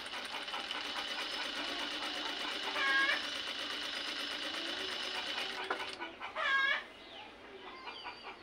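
A sewing machine stitches piping onto the side of a dress with a steady, moderate whir that stops near the end, while chickens cluck faintly in the background.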